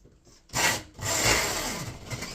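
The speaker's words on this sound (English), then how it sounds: "I'm actually using a 8mm drill bit, 8mm masonry bit" A drill fitted with an 8 mm masonry bit bores into a wall for mounting a coat rail, a brief grinding burst followed by a longer steady rough whirring, close and fairly loud.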